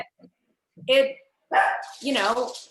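A pet dog barks a few times at close range, in short yappy bursts with pauses between them, inside a room where a podcast is being recorded.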